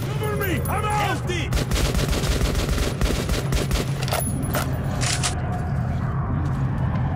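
Sustained close gunfire from several weapons in the shooter Metro 2033 Redux, a continuous loud volley of overlapping rapid shots with chirping effects near the start.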